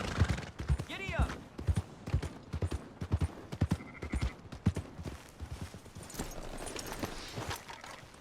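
Horse hooves clip-clop at a steady rhythm across the ground in Red Dead Redemption 2, with a horse whinnying near the start and characters talking over the hoofbeats.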